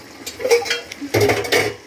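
Spices are dry-roasted in a pan: a utensil scrapes and clinks against the metal in short, uneven strokes, close by, in a village kitchen in Nepal.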